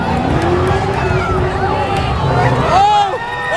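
A police SUV drives through a crowd of about thirty people on a Tacoma street, its engine noise mixing with loud crowd commotion, shouting and screams throughout, with a sharp rise in cries near the end.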